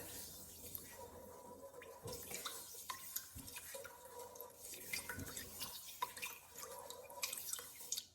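Soft, quiet stirring and liquid sloshing as sugar syrup is stirred in a pot, with faint metallic taps of a utensil against the sides.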